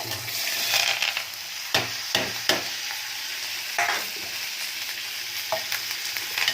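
Onion tempering in hot oil while cooking broad beans, with a constant sizzle broken by several sharp spoon scrapes and clacks against the pan at an uneven rhythm.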